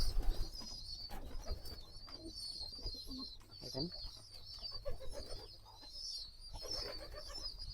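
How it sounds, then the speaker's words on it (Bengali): Pigeons in a loft coo softly while feeding two chicks, with low repeated cooing and faint chirps amid rustling and light knocks, fairly quiet and close. "কবুতরটা দেখেন বাচ্চাকে খুব সুন্দরভাবে খাওয়াইতে আছে দুইটা বাচ্চাকে একসাথে"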